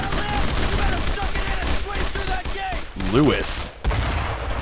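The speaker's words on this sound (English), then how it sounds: "They must have gotten around us and set up an MG on our flank" Machine gun fire from the flank in Brothers in Arms: Road to Hill 30 during a WWII push toward Carentan: steady rapid bursts of automatic fire rattling throughout, with a voice briefly speaking over the shooting.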